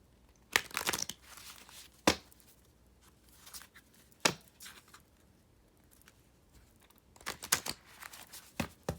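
Tarot cards being shuffled, crisp papery riffles and slaps in scattered bursts, loud and close, with quiet stretches between.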